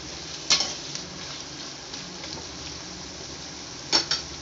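Long-cut carrot strips for a pasta dish cook in a pan with a steady low sizzle, broken by two sharp utensil clinks against the pan near the start and end.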